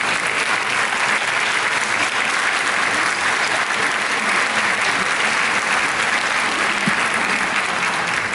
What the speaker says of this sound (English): And yes, I will applaud for that.